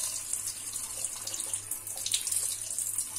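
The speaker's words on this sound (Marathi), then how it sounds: "पोहे आपण स्वच्छ धुवून घेणार आहोत" Tap water runs steadily as poha (flattened rice) is rinsed in a kitchen sink, a constant hissing flow with light splashing and no voices.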